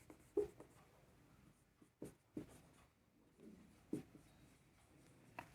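Chalk or marker strokes tap and scratch on a classroom board during an accounting lesson, a few sparse, quiet marks spaced across several seconds with no talking.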